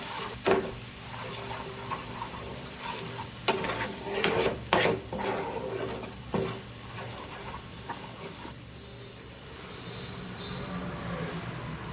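Usal masala and red chili powder sautéing in a pan for Vadodara-style sev usal, with a steady low sizzle and several distinct spoon-stirring scrapes spread through, no talk.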